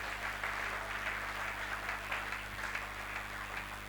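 A church congregation applauds to acclaim the Lord during a Sunday service, a steady, even wash of clapping that fills the room over a low electrical hum and carries on without a break.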